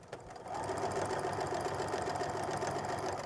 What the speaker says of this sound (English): Now I'm just going to go ahead and stitch my 1/4 inch seam from edge to edge.